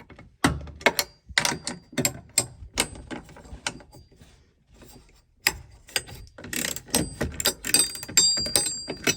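A 12mm socket on a hand ratchet removes a part from a Toyota Townace truck. It gives quick bursts of sharp clicking with short pauses between them, close up and loud, and no one talks.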